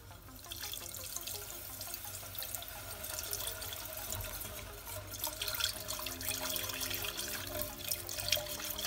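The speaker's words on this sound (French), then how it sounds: "Et versez votre lait" Milk poured gradually into a béchamel sauce in a pan, a steady running liquid pour with a soft continuous trickle and faint splashing throughout, fairly close and with no talking.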